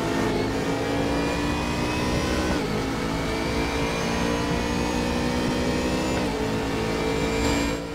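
Ford GT race car engine in the RaceRoom racing game, holding a steady high roar with rising revs, dipping briefly at two gear shifts, loud and continuous with no talking.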